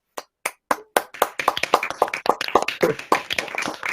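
Graduates at an online engineering graduation ceremony clap over unmuted microphones, starting as a few separate sharp claps and building into overlapping, uneven clapping from several people.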